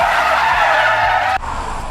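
Car tyres skid loudly through an oversteer in a used saloon during a driving challenge, a continuous harsh squeal for over a second before cutting abruptly to lower engine noise.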